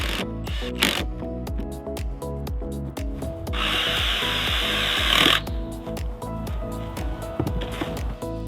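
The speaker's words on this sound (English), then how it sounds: "Then we start placing our decking." Wooden decking boards are laid onto a floor frame during a cheap DIY house build: a dense run of knocks, clatters and rubbing thuds, with a steady hissing rasp in the middle, all close and busy.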